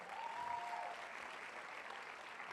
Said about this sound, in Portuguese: Dá um aplauso bem forte.